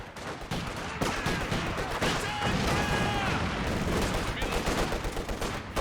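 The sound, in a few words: machine gun fire in Company of Heroes 2 video game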